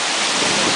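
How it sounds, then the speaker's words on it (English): A waterfall reached on a hike pours with a steady, dense rushing roar that fills the whole short moment without any break. "We finally reached the other waterfall"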